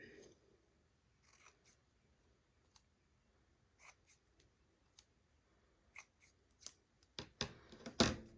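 Scissors snipping craft paper to trim a pocket piece, a scattered series of crisp clicks and cuts close by, sparse at first and bunching into quicker snips near the end.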